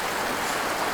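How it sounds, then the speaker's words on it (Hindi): A flowing stream at an outdoor spot gives off a steady, fairly loud rush of water, an even hiss with no breaks and no voices. "बहता हुआ पानी,"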